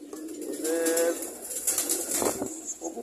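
Pigeons coo near a loft where five- to six-day-old squabs are being hand-fed. A close, throaty coo is followed by softer calls and faint rustling, with no talking.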